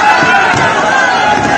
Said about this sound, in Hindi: वीडियो में आप देख सकते हैं कैसे भीड़ ने मंदिर को तहस नहस कर दिया।